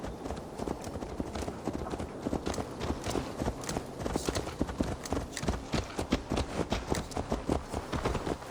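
Horse hooves in Assassin's Creed Valhalla, a fast, even clip-clop of repeated hoofbeats, loud and close, set against a busy game soundscape with ambient rumble.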